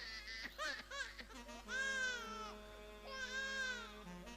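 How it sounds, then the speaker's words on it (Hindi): An infant cries in short, rising wails, a few choppy sobs followed by two longer drawn-out cries with a brief pause between them, close and clear over a faint steady hum. "बच्चे की रोने की आवाज"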